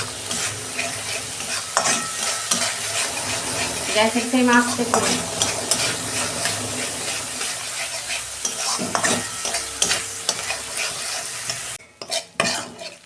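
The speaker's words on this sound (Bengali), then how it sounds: "মশলাটাকে আমি 2 মিনিট কষে নেব।" A spice paste with turmeric fries in oil in a wok, sizzling loudly and continuously while a spatula stirs and scrapes throughout. A person speaks briefly, and there are clattering knocks near the end.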